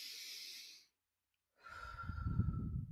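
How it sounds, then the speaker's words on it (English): A collective deep breath: a long breathy exhale, then a pause of silence, followed by a fuller rushing inhale-like breath with low rumbling, close and fairly quiet, no talking. "Let's take a collective breath together."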